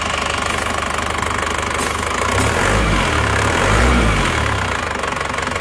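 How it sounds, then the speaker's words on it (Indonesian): Isuzu Panther diesel engine idling after repair, a loud, steady close rumble with a knocking pulse that swells slightly in the middle before settling back. "Untuk suara mesinnya"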